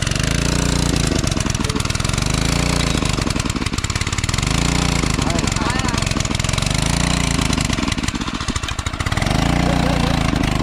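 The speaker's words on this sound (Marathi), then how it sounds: "हे बघा आमचे मोटर आता चालू झाले आता ह्या इथून पाणी सोडतंय" A motor-driven water pump runs steadily, drawing water from a river for draining it to catch fish, its engine drone continuous and loud while people talk over it throughout.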